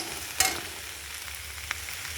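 Chow mein vegetables fry quietly in a pan after soy sauce and vinegar go in, giving a soft continuous sizzle with a couple of brief clinks from a utensil.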